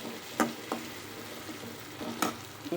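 Curry leaves and chillies in hot oil, cooked for snake gourd poriyal, give a soft steady sizzle with a few sharp stirring scrapes and clinks of a spoon against the pan.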